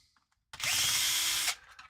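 A power drill whirs for about one second as it backs a screw out, a single steady high-pitched burst that starts abruptly and then cuts off into quiet.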